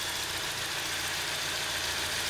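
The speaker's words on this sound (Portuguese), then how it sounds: "O motor tá legalzinho já." A Fiat Fiorino engine runs at idle after a partial rebuild, a steady, close mechanical drone with a faint knocking texture and no talk over it.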